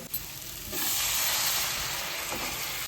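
Coconut, dried coconut and tomatoes hit hot oil in a pan with a loud, steady sizzle that jumps up after a soft start and stays dense and close throughout, no voices.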